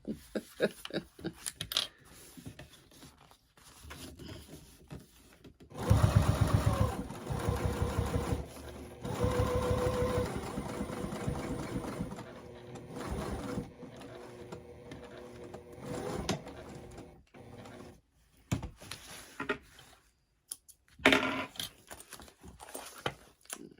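A sewing machine stitches through the vinyl and lining of a crossbody bag, running loud and steady in a long continuous burst after a few quieter start-stop stitches, then slowing to short bursts near the end, with no talking.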